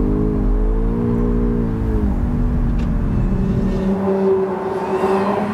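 BMW M5 Touring 2024 accelerating hard on a race track, a loud, close engine note climbing in pitch through a gear change and pulling on strongly, with no talk over it.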